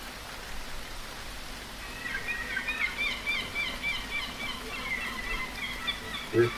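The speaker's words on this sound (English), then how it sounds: "Here's your seagull sounds, John." Seagull calls, a series of short cries in the middle distance, over a steady rain-like hiss.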